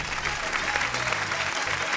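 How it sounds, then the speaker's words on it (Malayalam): Audience applause at a comedy stage show, a dense burst of clapping from a crowd, sustained and fairly close for the whole moment. "കൈയടിക്കേ."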